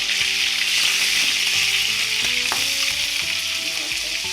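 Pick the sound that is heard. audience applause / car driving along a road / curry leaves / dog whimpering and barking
curry leaves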